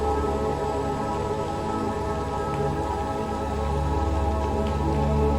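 Gentle rain falls steadily in a natural setting, a dense, even patter that stays soft and constant throughout with no voices or other distinct sounds standing out.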